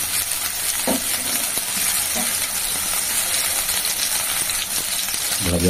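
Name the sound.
potatoes and soybean chunks frying in oil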